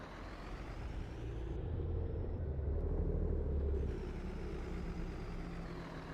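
Grain trailer being emptied at a silo in Farming Simulator 22, a steady loud rumbling engine drone with a low hiss that swells in the middle and holds on without speech.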